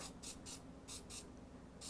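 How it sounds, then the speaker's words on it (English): A spray bottle mists bread dough in quick hissing bursts, two close together, then two more, then a last one, soft and near in a quiet kitchen. "now I'm going to spray the other half"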